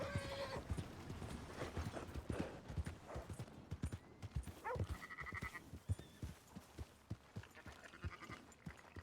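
Horse hooves clip-clop at a steady gallop rhythm in Red Dead Redemption 2, close and continuous throughout, with occasional faint game sounds and a brief whinny-like tone mixed in.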